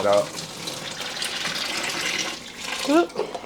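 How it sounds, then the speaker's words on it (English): Water drains and splashes from a container of softened food in a home kitchen, a steady running gush with a brief spill near the end, while a person talks briefly. "we're gonna drain the water from this."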